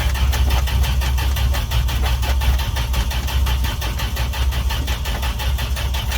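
A Dodge D100 pickup engine cranking and trying to start in the rain, a loud, steady, rhythmic churning that runs the whole time with no voices.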